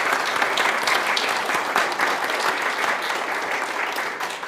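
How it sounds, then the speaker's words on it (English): An audience applauds a tech team at a service, a dense, steady wash of clapping that stays loud and even throughout with no pauses. "let's give a big round of applause to the tech team"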